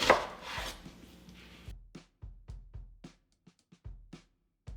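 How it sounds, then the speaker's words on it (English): A knife thinly slicing red onion on a cutting board: after a short rustle, a series of close, distinct chops comes in an uneven rhythm with small gaps between strokes. "And now you want 1 cup of red onion, thinly sliced."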